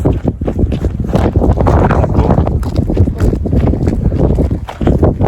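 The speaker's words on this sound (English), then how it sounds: "It's super windy" Strong wind in northwest Utah buffets the microphone in a continuous loud rumble, gusting unevenly throughout with no clear voices.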